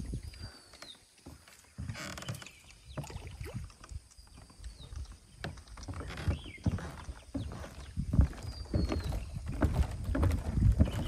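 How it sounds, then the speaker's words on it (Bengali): A small boat on Kaptai Lake in Rangamati knocks and splashes with uneven thumps and water sloshing, the sounds close and irregular, with faint chirps above. "বোট হাইকিং করতেছি, লেকের মধ্যে নেমে পড়েছি"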